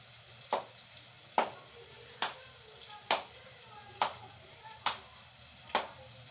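Onions fry in a pan under a soft, constant sizzle, with seven sharp, even strokes of stirring or tapping about once a second.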